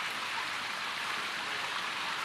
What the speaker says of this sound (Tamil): கனமழை பெய்து கொண்டே இருக்கிறது